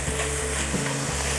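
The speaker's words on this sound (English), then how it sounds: "We're just frying off the onion and capsicum until it's translucent." Onion and capsicum fry in a pan for a roasted tomato soup, giving a loud, steady, close sizzle that holds evenly throughout with no voices.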